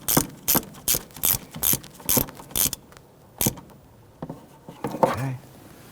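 Ratchet tightening a bolt on the windshield washer reservoir of a 2000-2006 Toyota Tundra, a series of sharp close clicking strokes in a quick rhythm, then a pause and a few scattered mechanical clicks and creaks.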